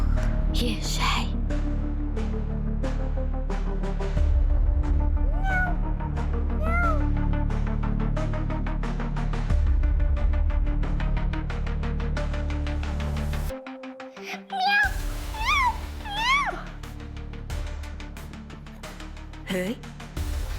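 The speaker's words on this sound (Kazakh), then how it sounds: "мысықтар көбейіп кеткен бе?" Cats meow repeatedly over steady background music, with a brief drop-out before a cluster of close, rising meows.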